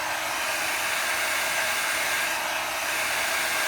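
A heat tool blows hot air over a handmade Christmas card, a loud, steady, close whooshing hiss that runs unbroken throughout.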